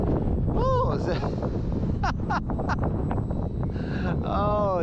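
Strong storm wind buffets a microphone outdoors in a steady, loud broadband roar while an RC plane runs a 2200 three-cell battery at full throttle, with someone talking throughout and brief whining engine tones overhead.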